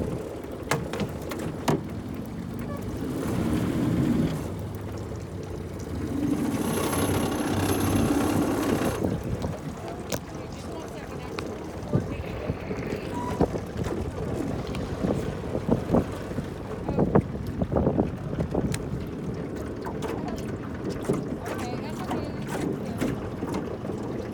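A rowing boat moves through water, with oars knocking and clicking in their locks in an irregular rhythm, splashes of the blades, and steady wind across the microphone throughout.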